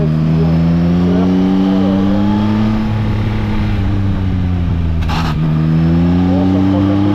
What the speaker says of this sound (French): Les rétrogradages sont d'une rapidité, d'une précision du moteur.